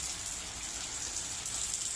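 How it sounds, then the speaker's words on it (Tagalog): Heavy morning rain pours down in a steady, dense hiss with no break, close and fairly loud, with no voices over it. "maulan ngayon, umaga. Ayan, lakas ng ulan, oh."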